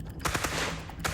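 A Gatling gun fires a quick burst of several rapid, loud cracking shots in close succession, heard nearby with no talking.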